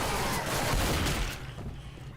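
Pistol fire from the video game Left 4 Dead 2, a quick burst of close, sharp shots that drops off after about a second and a half.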